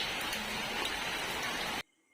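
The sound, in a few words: rain falling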